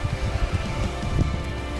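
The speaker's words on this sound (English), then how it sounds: "with this rain coming down, it's kind of soaking in" Rain comes down steadily outdoors in hilly country, a dense close hiss of drops with soft pattering, alone and with no talking.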